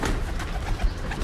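Pigeons coo softly nearby over a rustling, noisy background, with no one speaking.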